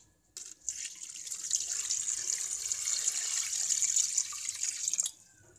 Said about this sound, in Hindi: और यहीं पर मैं इसमें करीब दुगना पानी डाल दूंगी।